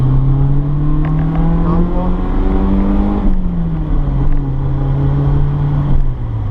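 A car on a test drive accelerates steadily and loudly, its engine tone climbing and shifting through gears over a continuous road rumble, with no voices.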